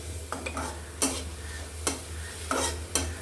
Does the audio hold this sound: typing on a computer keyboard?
no